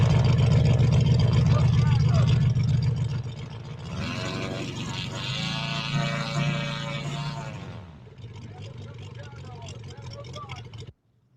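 A small gas engine on an RC model airplane runs with a steady, buzzing drone that shifts pitch slightly midway, while people talk over it nearby.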